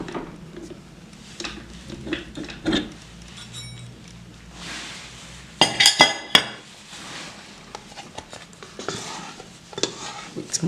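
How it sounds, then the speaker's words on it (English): A dough scraper drags stretchy cinnamon roll dough off the sides of a bowl, giving close, intermittent scrapes and light clinks, with a burst of sharper knocks midway and quiet gaps between. "So I'm going to scrape it off and just scrape it off the bowl."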